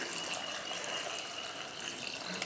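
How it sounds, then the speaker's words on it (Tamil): Water poured from a vessel into a pan of cut vegetables and oil, a steady close hiss of running liquid with no talk. "அடுத்து தண்ணி சேர்த்துருவோம்."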